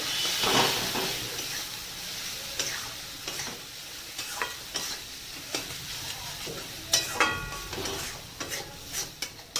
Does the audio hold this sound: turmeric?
yes